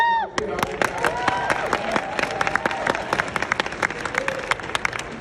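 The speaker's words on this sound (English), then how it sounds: "Clap about that." Audience clapping at a business presentation in Charlotte, NC, made of sharp scattered hand claps with some cheering running steadily under overlapping talk.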